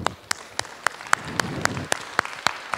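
Separate, evenly spaced sharp claps at about one every quarter second, moderately loud over a faint background hum, with no voices, as an audience led in a French finger-yoga mudra session begins to applaud.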